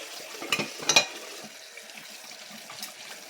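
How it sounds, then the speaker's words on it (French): Dishes being washed in a kitchen sink, with a couple of brief clinks and splashes near the start followed by a faint, steady running-water hiss. "Je fais la vaisselle."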